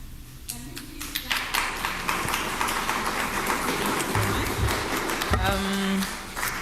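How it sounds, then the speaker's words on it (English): Crowd applause at a Kenyatta University research event fills the space, dense clapping continuing steadily with a few voices and tones mixed in near the end. "We can clap kindly. In Africa, we really clap."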